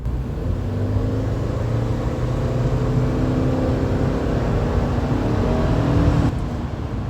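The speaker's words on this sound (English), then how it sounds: "let's hear that turbo again in this car." A 2016 Subaru Forester XT turbo engine heard from inside the cabin pulls steadily under acceleration, a smooth rising drone with faint turbo whir throughout, with no talking over it.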